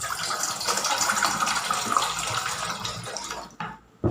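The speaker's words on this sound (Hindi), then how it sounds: "इसमें हम पानी को डालेंगे।" Water pours from a vessel into a cooking pot on a gas stove, a steady splashing stream at close range that thins and stops near the end, followed by a brief clunk.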